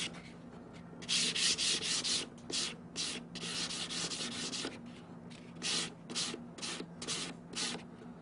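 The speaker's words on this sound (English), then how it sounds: "now we want to sand surfaces" Metal surfaces of a handmade Japanese-style earring are sanded by hand, a close rasping scrape repeated in irregular strokes of varying length, loud and dry with short pauses between.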